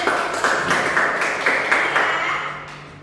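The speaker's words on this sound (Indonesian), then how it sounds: "Boleh tepuk tangan untuk Sofia" Elementary classroom pupils clapping for a student, a few seconds of steady, rhythmic hand claps in unison, close and moderately loud, fading at the end.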